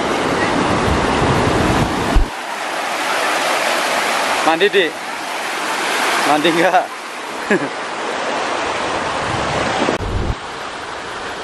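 A sulfur-rich river on the Mount Salak trail near Bogor, West Java, rushes loudly close by, with wind buffeting the microphone and brief breaks in the noise while people talk over the flowing water.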